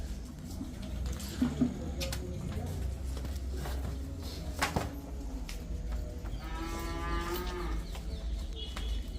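Buffalo at a farm where buffalo are sold, mooing in a few drawn-out calls over steady low rumbling farmyard background, fairly close, with no talk.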